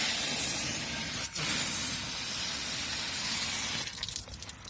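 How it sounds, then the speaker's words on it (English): Steady close spray of a hose rinsing foaming degreaser off the oily underside of a car with a bad oil leak, a continuous hissing gush that briefly dips and turns choppier near the end. "Alright, I guess it's time to hose it off."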